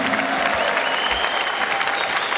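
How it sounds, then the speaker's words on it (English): Concert crowd claps warmly during band member introductions at a show, a bright, sustained wash of applause with a few faint voices mixed in. "While you're applauding, ladies and gentlemen"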